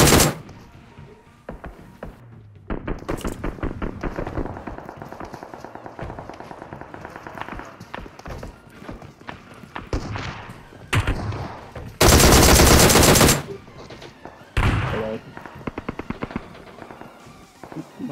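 DP-28 machine gun in PUBG Mobile, rattling out loud bursts of rapid fire with brief gaps, plus a sharp louder blast partway through.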